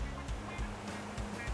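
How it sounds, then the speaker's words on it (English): Melincourt waterfall in South Wales gives a steady, faint, broadband rush of falling water with no other sound standing out. "Just going up to that waterfall."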